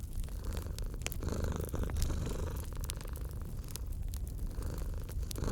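Steady, low rumbling cat purr running throughout, close and continuous, with faint crackles and scrapes of a wood-burning stove fire on top.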